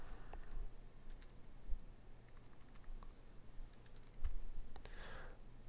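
A name is typed on a computer keyboard, with quiet, irregular clusters of key clicks and a few louder thumps heard close up against a faint room hum, with no talking.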